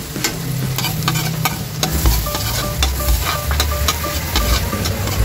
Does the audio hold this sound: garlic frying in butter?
yes